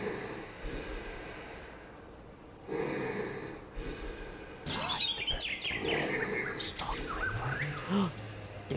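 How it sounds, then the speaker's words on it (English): Heavy, rhythmic breathing from a Burger King horror video game, rising in loud bursts of snorting breaths close up, with other game sounds and chirpy tones mixed in. "You hear the breathing?"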